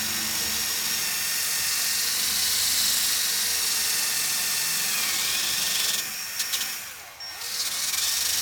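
A power sander grinds Bondo body filler off the body of a 1969 Dodge Charger R/T 440 under restoration, a steady loud high-pitched whir that briefly dips and changes tone near the end before resuming.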